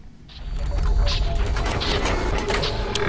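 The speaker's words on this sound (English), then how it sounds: "Let's go ahead, open it up, see how it performs." Opening a retail box for a Samsung Galaxy S III Mini smartphone, with close scraping, creaking and clicking as the packaging is handled, steady and fairly loud throughout.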